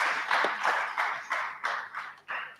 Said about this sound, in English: let's clap for Peterson Karaoke